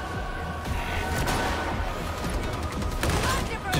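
Warhammer 40k Darktide game gunfire, a dense rapid volley of loud shots and blasts in a firefight with a sniper enemy, over a booming background, with players talking.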